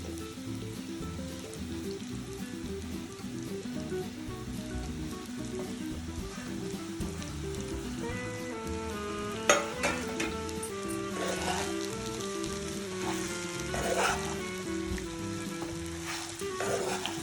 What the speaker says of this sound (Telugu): రాత్రి నానబెట్టుకున్న సగ్గుబియ్యం అండి, ఇవి ఇప్పుడు వేసుకోవాలి.